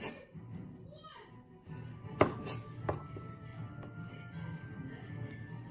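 Knife chopping garlic on a cutting board, a few sharp taps and a rhythmic run of cuts over a low kitchen background, with a loud knock near the middle.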